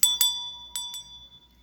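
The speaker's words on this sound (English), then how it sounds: "you like the bell?" A bell notification chime rings out in two quick pairs of bright metallic dings, the ringing tone lingering and fading between strikes, close and clear with no talking.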